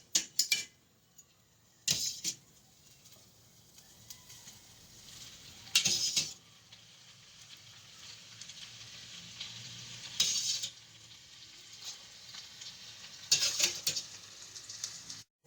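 Pasta tossed into a frying pan with bacon for carbonara gives brief, quiet bursts of sizzling and stirring, spaced by near-silent gaps.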